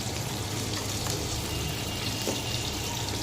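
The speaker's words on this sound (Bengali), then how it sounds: "টমেটোটা একটু ভাজা হোক" Tomato and fish frying together in a pan give a steady, moderate sizzle and crackle that runs evenly throughout, close by, with no voices.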